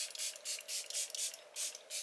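Quick bursts of a fine mist spray, about six short hisses in an uneven rhythm, close and fairly soft.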